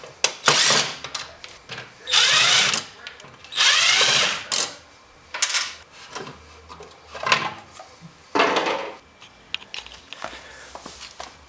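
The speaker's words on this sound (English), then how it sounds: "this involves taking out these simple screws, and then you can take the bolts off from the inside of the actual light housing" A power driver backs screws out of a Jeep CJ7 brake light housing in repeated short whirring bursts, close and loud, with brief quiet gaps between each screw.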